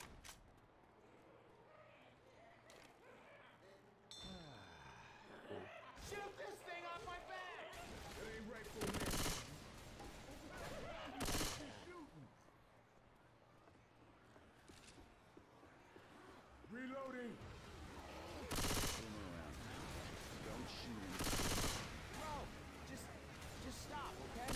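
Shotgun blasts in a video game: repeated loud booming shots ring out in separate bursts among rattling gunfire, with people talking throughout.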